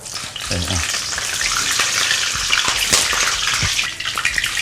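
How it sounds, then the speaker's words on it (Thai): Loud, steady sizzling and crackling of food frying in hot oil, with occasional stirring clinks and pops up close. "อันนี้ทอดให้มันเป็นยังไงให้ใบมันใสใช่ไหม ให้ใบมันเขียวใสแล้วก็เสียงมันหาย"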